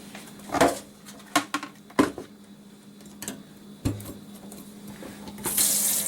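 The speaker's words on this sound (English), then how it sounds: "I'm going to rinse it off with some apple cider vinegar" Swiss chard is rinsed in a sink under running tap water, with intermittent splashes, knocks and clatters as the leaves are handled, ending in a louder burst of running water.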